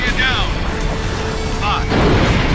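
Heavy explosion rumble in the flight combat game Ace Combat Infinity, a loud, dense boom swelling near the end amid jet and battle noise, with radio voices talking over it.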